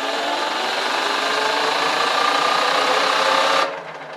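An electric vehicle motor on an 18 FET controller runs at full throttle, a loud, steady, high-pitched whine lasting several seconds before abruptly cutting back to a lower hum.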